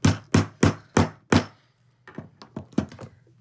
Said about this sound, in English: then I can hammer.